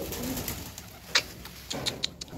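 Pigeons make soft, low cooing sounds, with a few brief sharp chirps and clicks breaking through the faint background.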